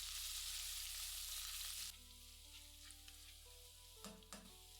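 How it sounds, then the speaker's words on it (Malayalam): Crushed ginger and garlic frying in hot oil with cumin, a quiet, steady sizzle that drops lower partway through, with a few soft clinks of stirring near the end. "1 ഇഞ്ച് നീളമുള്ള ഇഞ്ചി ചതച്ചതും 6 വെളുത്തുള്ളി അല്ലി ചതച്ചതും ഇട്ട് അല്പം മൂപ്പിക്കുക"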